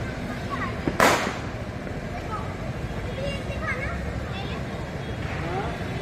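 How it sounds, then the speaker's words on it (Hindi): At a Diwali celebration in Delhi, children set off firecrackers: one sharp, loud crack rings out early, followed by faint pops and chatter from the crowd in the background. "ये पटाखे चला रहे हैं बच्चे,"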